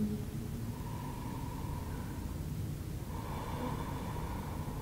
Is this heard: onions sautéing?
no